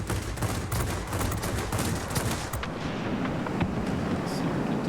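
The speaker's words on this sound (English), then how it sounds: "got your two 23mm cannons, and you've got one 37mm cannon" Cannon fire from a MiG-15bis jet in World of Warplanes, its two 23mm guns and one 37mm gun firing in rapid dense bursts, loud and close over steady wind and engine noise.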